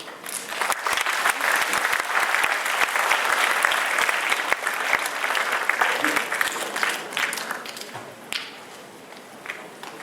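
Audience applause for award winners at a school graduation ceremony, sustained dense clapping with sharp individual claps standing out, fading slightly toward the end.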